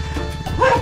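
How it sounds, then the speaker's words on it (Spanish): Dogs at a rural country property bark in greeting at arriving visitors, a brief, close burst of barking over outdoor background noise. "esto es lo bonito de los chácaras, que nos salen a saludar los chuchos"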